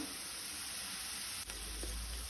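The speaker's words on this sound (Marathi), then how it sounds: "कांदो असो बरो तळसून घेवपाक जाय" Chopped onion sizzling in a pan for a Goan tender jackfruit bhaji, a steady soft hiss that carries on evenly throughout with no voices.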